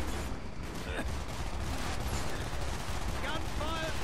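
Gunfire in the Call of Duty Black Ops video game, scattered shots against a rumbling low battle din, with brief sharp bursts and faint electronic whines amid the chaos.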